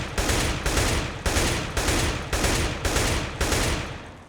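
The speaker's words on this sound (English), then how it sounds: "the 2-shot burst, and maintaining it" Repeated two-shot bursts of rifle fire in the game Counter-Strike: Global Offensive, about seven loud, evenly spaced bursts in quick succession, each a sharp crack with a short decaying tail, no talking.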